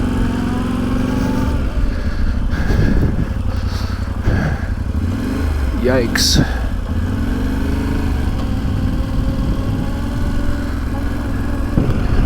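A Yamaha Tenere dual sport motorcycle's engine drones steadily close by while riding a rough backcountry trail, with revs rising and falling, clattering bumps, and a brief exclamation from the rider.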